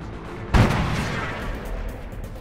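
An artillery bombardment in the video game Command and Conquer 3 lands as one heavy, close boom with a loud onset, then rumbles and fades away into a long noisy tail.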